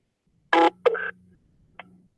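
A phone gives off a few short electronic tones close up: one steady beep, then a second beep, then a brief faint chirp a moment later over a low hum.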